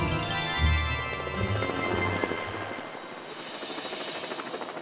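A cartoon helicopter flies with a whirring, buzzing drone that settles into a rhythmic rotor chop, moderately loud with no talk.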